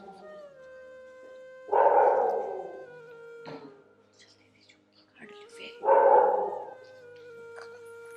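A dog barks in two loud, separate bursts a few seconds apart, heard in a Haryanvi family drama over a steady humming background.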